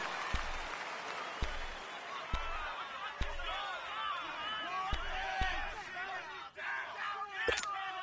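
Football stadium crowd at a Chiefs vs Broncos game building into a steady roar of cheering ahead of a big third down, with sharp thumps and claps cutting through the continuous noise and a commentator talking over it.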